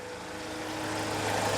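A Hyundai H-1 van, final-generation top Deluxe trim, idles with its engine bay open, giving a steady low drone and hum that swells slightly toward the end, with no talking over it.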